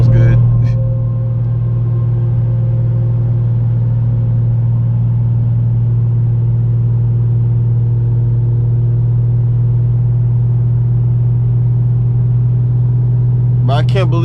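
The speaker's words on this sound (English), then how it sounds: "Just how it sounds, highway speeds. With the pop noise and everything. The little burbles." An Infiniti G37 fitted with resonators cruises at highway speed, giving a steady, loud low exhaust drone and rumble that holds for the whole stretch, with a brief burst of higher noise near the end.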